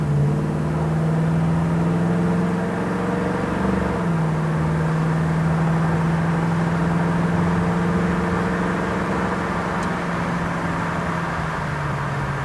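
A 1968 Ford Mustang drives along and shifts up through a couple of gears, its engine a steady close drone that changes pitch briefly between gears, with nobody talking.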